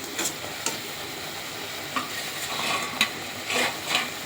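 Garlic paste goes into a curry frying in a pan. A steady sizzle carries a few sharp spoon scrapes and stirring knocks at irregular intervals.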